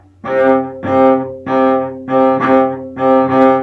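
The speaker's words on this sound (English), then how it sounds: "Now we're gonna play C on that rhythm with the bow." Five bowed notes on a double bass, each a steady swelling stroke on the same low C, evenly spaced with short gaps.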